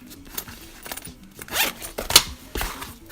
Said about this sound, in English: they need to open this first and then open the zipper